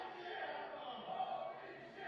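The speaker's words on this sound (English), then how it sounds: "A holy shit chant by the crowd here at the Oakland Metro." Wrestling crowd at the Oakland Metro chanting together after a table spot in a street-fight match, a dense distant roar of many voices holding steady throughout.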